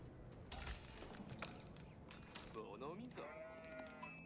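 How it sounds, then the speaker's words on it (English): Sheep bleat in a video game, a couple of faint wavering bleats near the end of a quiet stretch that also carries light clicks and soft talk. "Oh, there's still sheep here."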